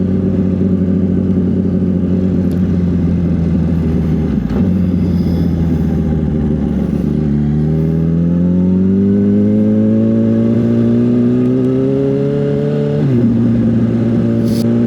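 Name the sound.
motorcycle riding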